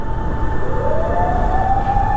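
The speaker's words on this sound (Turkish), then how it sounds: "O cayır cayır siren çalıyor." Emergency vehicle siren wailing on a street in Japan, a loud continuous rising tone over steady traffic noise, with no talking.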